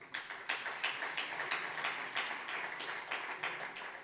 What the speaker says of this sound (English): Don't clap for me, clap for the private sector.